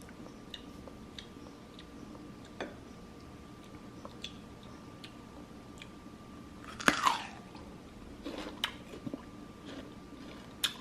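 Someone chews crunchy Japanese plum up close, with soft steady crunches and one louder bite burst midway, no talking.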